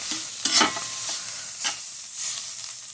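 Lion's mane mushrooms sizzle steadily in a pan, with a few brief stirring scrapes and clinks over the soft continuous frying hiss.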